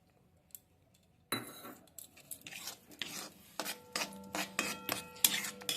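Spoon scraping and rubbing against a pot while milk is stirred for gokul pitha with fried flattened rice, a run of close, irregular scrapes and clinks after a quiet start.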